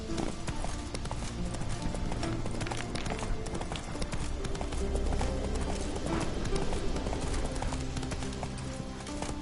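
Hooves of the horse Roach clop in a steady galloping rhythm throughout, close and loud in a video game, layered over busy music and effects, with occasional voices in the mix.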